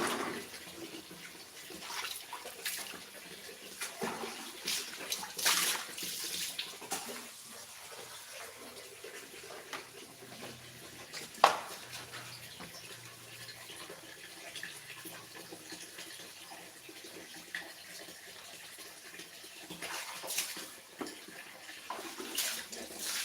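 Water pours and splashes steadily while raw fish is washed with soap for spicy pepes, the running flow continuing with occasional louder splashes and clatters throughout.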